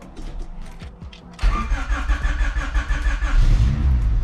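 A Honda Integra engine, just repaired after a blown head, cranks briefly and catches, settling into a loud, close, rough idle with uneven pulsing revs.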